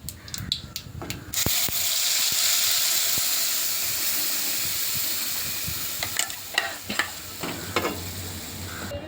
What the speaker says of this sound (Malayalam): ഇനി നമ്മൾ റെഡിയാക്കി വെച്ചിരിക്കുന്ന മസാല ചേർക്കാം